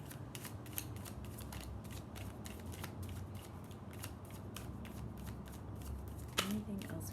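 A deck of tarot cards is shuffled by hand, giving a continuous run of crisp riffling card flicks at close range, steady and quiet throughout.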